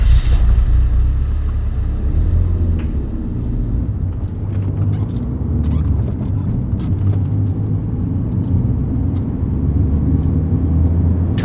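A car engine rumbles loudly and steadily for the whole stretch, revving and accelerating without a break, with no voices over it.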